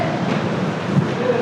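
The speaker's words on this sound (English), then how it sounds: "it's a lot colder than I initially thought it was going to be, and windy" Steady wind buffeting by the sea in San Francisco on a cold, windy day, a constant broadband rush with surf-like roar close to the microphone, no clear talk.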